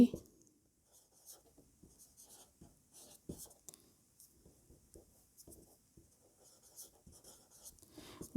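A pen scratches on paper in short, faint strokes and taps while a math probability solution is written out, sparse and close with quiet gaps between marks.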